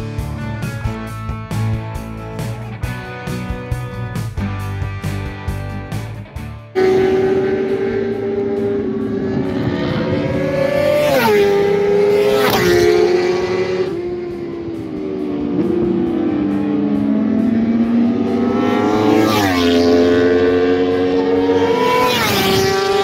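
Race cars at the Kymiring circuit in Finland, engines loud and close, revving and sweeping through gear changes, with a sharp cut partway in as the sound shifts to sustained high-pitched engine drone.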